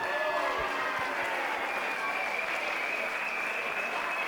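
Sustained crowd applause at a Budo FC 4 MMA event after a three-round bout ruled a majority draw, a steady dense wash of clapping throughout with no talk over it.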